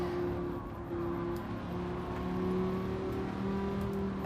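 A racing car engine in a video game holds a steady drone with rising tonal harmonics as the throttle is balanced through corners on the High Speed Ring Reverse track, continuous and fairly loud, with no talking.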